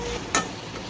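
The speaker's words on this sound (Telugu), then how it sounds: "పచ్చివాసన పోయేంత వరకు హై ఫ్లేమ్ మీదే ఫ్రై చేసుకోవాలి" Spice paste fries in a pan over a high flame for chicken fry biryani, giving a steady close sizzle. A single quick stirring scrape cuts through partway.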